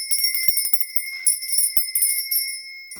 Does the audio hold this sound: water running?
no